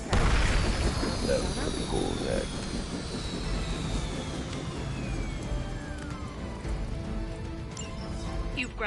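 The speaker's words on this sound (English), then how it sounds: "You've grounded the helicopter." A helicopter being brought down in the Marvel Midnight Suns video game: a dense roar of rotor and engine noise with descending whines and rumbling impacts, steady and loud throughout, mixed with game effects.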